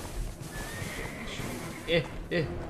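A horse whinnies twice in a video game, two short bright neighs rising over a steady game soundscape while a person talks nearby.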